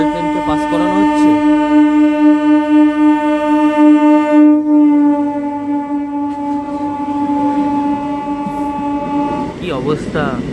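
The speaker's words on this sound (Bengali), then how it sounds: "এই ট্রেনটাকে দাঁড় করিয়ে লোকাল ট্রেনকে পাস করানো হচ্ছে।" A local train on the Andal–Burdwan line passes the halted Amritsar–Howrah Mail, sounding a long, loud, steady horn over a low rolling rumble that breaks into rattling clatter at the end.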